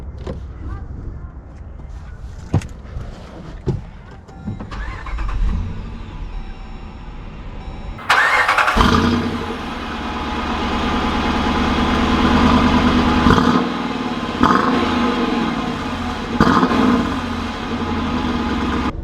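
2015 Dodge Durango R/T engine cranking to life around the eight-second mark, then a steady, fairly loud idle and low rumble filling the cabin, with a few clunks and knocks before it.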